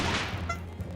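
A single sharp firework bang in The Great Ace Attorney Chronicles, sounding like a gunshot, loud and close at the start, its broadband burst fading quickly into a low rumbling tail.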